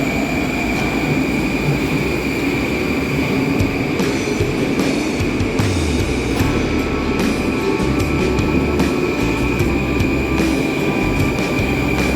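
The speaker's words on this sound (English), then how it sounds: "We're about to get on the train and head to Tsaritsino." A Moscow metro train at an underground station, its loud, continuous rumble and rattling wheels filling the space, with a steady high whine and occasional squeals throughout.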